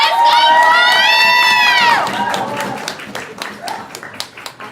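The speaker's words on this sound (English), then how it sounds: "Clap her up, clap her up, clap her up." At a poetry slam quarter-final, a crowd cheers loudly with shrill, sustained whoops for a performer, then the yelling gives way to scattered, crisp clapping.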